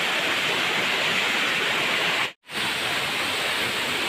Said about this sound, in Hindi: देखो झरना एटा